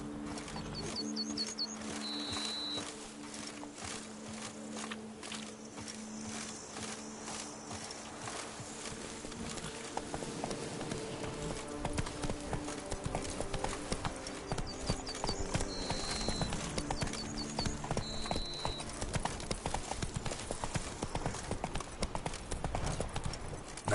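Roach the horse galloping in The Witcher video game, a steady rhythmic clip-clop of hooves under ambient game sound with faint buzzing insects and occasional tonal chimes.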